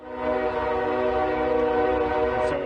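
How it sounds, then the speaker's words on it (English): A train passes near East Palestine, a loud sustained horn blast with the rumble of rail cars underneath. "While testing, we could hear trains passing every minute"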